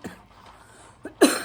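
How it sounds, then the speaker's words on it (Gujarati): A person coughs a few times in a quiet room: a faint cough at the start, another short one, then a louder, harsher cough at the end, close to the microphone. "ઉધરસ થઈ ગઈ"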